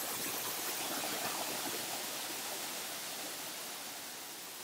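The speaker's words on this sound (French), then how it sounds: "On arrive à la cascade." A steady, dense roar of falling water fills the whole clip, loud and unbroken, like standing close to a waterfall.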